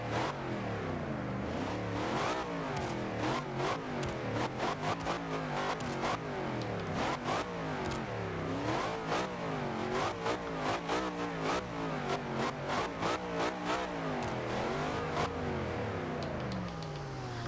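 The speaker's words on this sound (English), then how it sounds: "you can definitely hear that supercharger" A supercharged V8 engine of a 1963 Chevrolet Corvette C2 in the video game Forza Horizon 2 revs hard and continuously, pitch climbing and falling through repeated gear changes, with a faint supercharger whine riding on top. Loud and close throughout.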